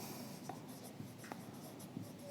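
Marker or chalk writing on a board during a lecture on structural loads, with short scratchy strokes repeating at a steady pace, close and clear, and no talking.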